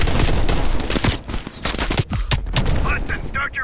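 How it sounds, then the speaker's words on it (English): Heavy machine gun fire from a ridge in the shooter game Call of Duty Black Ops Cold War, loud rapid bursts of shots cracking over a dense battle din, with a voice briefly speaking near the end. "Heavy MG on the ridge"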